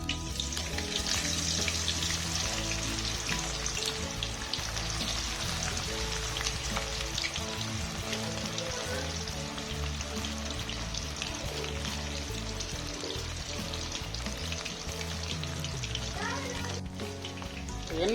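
Cauliflower chilli pieces fry in hot oil, a loud steady crackling sizzle that runs continuously throughout with faint clatter and a voice speaking underneath.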